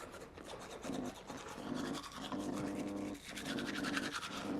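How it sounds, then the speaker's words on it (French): A toothbrush scrubs teeth in quick back-and-forth strokes, close and quiet, with a steady rhythmic scraping that pauses briefly between bursts and no speech over it. "on brosse les dents."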